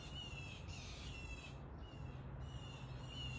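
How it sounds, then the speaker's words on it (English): Birds squawk and caw in bursts outdoors on a warm, 70-degree day, heard faintly over steady background hiss. "The birds are squawking."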